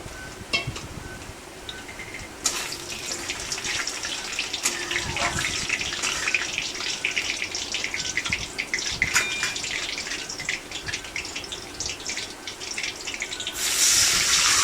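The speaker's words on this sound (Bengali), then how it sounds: "ফোড়নের ওপর জল দিয়ে দিলাম" Water poured into a pan of hot tempered spices while making a Bengali hilsa curry with mustard paste, a steady broadband splashing and hiss running continuously and close, swelling louder near the end.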